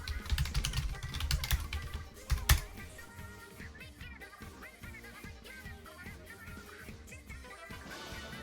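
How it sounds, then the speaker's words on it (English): Quick, uneven computer keyboard typing with bursts of clicks and clacks, louder at first and then settling into a lighter continuous patter, close and alone with no talk. "I was typing my intro stuff"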